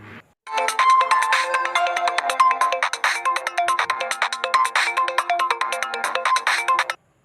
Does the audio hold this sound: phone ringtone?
yes